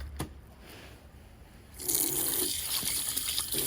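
An outdoor water tap in snowy weather runs as someone washes their hands. A few quiet, faint seconds pass before the water bursts on in a steady, close hissing gush that continues to the end.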